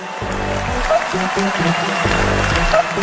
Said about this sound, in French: on peut applaudir bien fort encore une dernière fois les 15 régions qui ont défilé devant vous